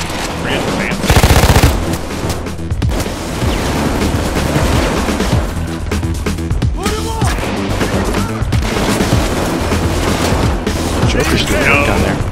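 Rapid automatic gunfire and explosions in the video game Payday 2 on Overkill difficulty, dense and loud throughout with sustained bursts, while players talk over the action.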